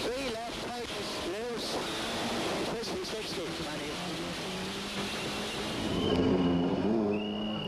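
A damaged Toyota rally car at the 1996 Galway International Rally pushes along a stage, its engine rising and falling in rough, wavering revs, with a voice speaking over it and a louder swell near the end.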